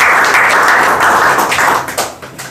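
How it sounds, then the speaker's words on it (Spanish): Dense applause from a crowd at a wedding ceremony in Santa Rosa, steady and bright for a couple of seconds, then thinning out toward the end. "un aplauso."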